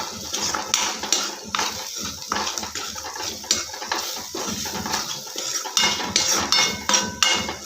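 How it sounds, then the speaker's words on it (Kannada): A spoon scrapes and clinks steadily around a pan while fresh green peas curry with salt and spices is mixed, the metallic stirring sounds repeating close up throughout, with no voices. "ಇವಾಗ ಚೆನ್ನಾಗಿ ಮಿಕ್ಸ್ ಮಾಡ್ಕೊಳ್ಳೋಣ."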